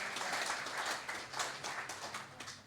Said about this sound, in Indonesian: Boleh tepuk tangan bagi Allah kita.